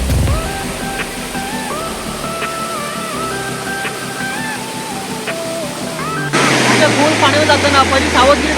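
Palasdari waterfall near Karjat: a steady rush of falling water runs throughout beneath a layer of melodic music, swelling louder and fuller for the last couple of seconds.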